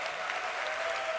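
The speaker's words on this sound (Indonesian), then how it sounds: "Tepuk tangan untuk mereka yang datang dengan" Steady applause from an audience greeting visiting guests, even and continuous with no voices over it.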